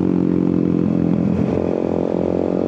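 A motorcycle engine runs steadily during a group breakfast ride in Bulacan, a loud, close, continuous droning hum with no talk over it.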